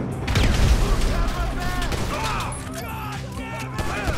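A frag grenade explodes in GTA 5 during a house-clearing shootout: a loud, booming blast early on, followed by rattling gunfire and shouting voices over a dense, noisy game background.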